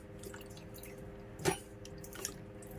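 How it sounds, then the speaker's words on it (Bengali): Water drips and splashes lightly as an aloe vera leaf is rinsed, with a few soft, brief splashes and one sharper splash midway over quiet background. "জল দিয়ে আগে পাতাটাকে ধুয়ে নেব ভালোভাবে"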